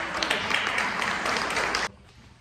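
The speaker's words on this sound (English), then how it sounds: "Everyone give a round of applause for that." An audience at a wellness summit session on returning to running bursts into dense applause that holds steady for about two seconds, then cuts off abruptly into near silence.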